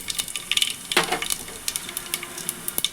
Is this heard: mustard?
yes